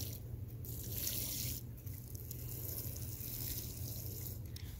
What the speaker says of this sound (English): I'll take my hose and I'll squirt a little water on them, kind of spray them so they kind of get wet and loosen up